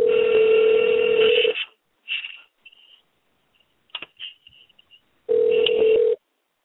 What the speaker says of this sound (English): I'm going to try one last time to get Jonathan Banks on the phone